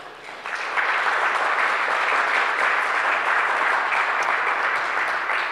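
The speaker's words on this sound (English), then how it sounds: "please give a big round of applause to Dr. Nicholas Clark" Audience applause at the launch of a heritage resources system, building quickly from a softer start into steady, dense clapping that holds evenly throughout.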